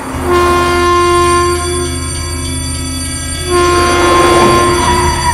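A train horn sounds loudly at a railroad crossing with sustained steady tones, dipping briefly then returning, over the rumble of a passing train.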